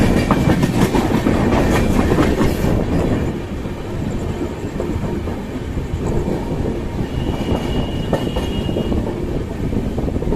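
Karmbhoomi Superfast passenger train running steadily on rails past Fatuha Junction, with loud continuous rumble and rhythmic clickety-clack of wagons, slightly quieter after the first few seconds, no talk.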